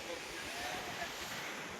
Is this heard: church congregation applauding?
no